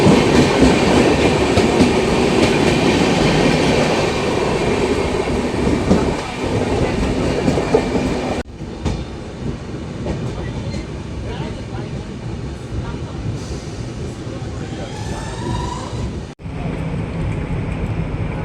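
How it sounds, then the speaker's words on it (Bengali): Doon Express entering Howrah Junction railway station: a loud, continuous rumble of rolling rail cars with clickety-clack and clatter, close by, with faint voices in the background. "ট্রেন ঢুকছে এখন আমাদের হাওড়া জংশন রেলওয়ে স্টেশনে"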